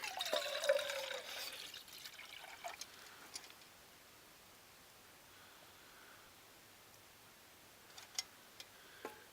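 Water being poured from a canteen into a camping pot up to the 16-ounce mark, a brief splashy trickle at the start fading into quiet background hiss, with a few faint clicks and taps later.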